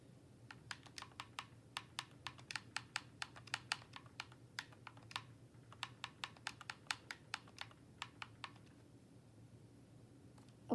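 A computer keyboard clacks as a last name is typed in during Xbox account setup: close, crisp keystrokes in quick irregular bursts with short pauses, and no voices.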